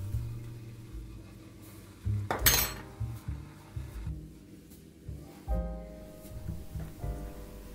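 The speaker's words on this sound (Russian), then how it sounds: "Теперь кипящим рассолом заливаем все банки до горлышка и накрываем крышками." Glass jars of Georgian-style pickled zucchini being filled with boiling brine and covered with lids: scattered clinks and clatters of glass and metal, with one louder crash-like burst near the middle, moderately close.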